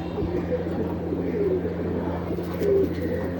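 Soft coos of khaki pigeons drift in a few times over a steady low hum, fairly faint and close by.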